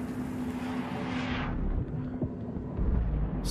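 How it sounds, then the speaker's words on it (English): Sonic booms in the game Inside: a broad, loud roaring wash that sweeps down and fades, followed by deep rumbling thumps in the low end. "Sonic booms is what they are."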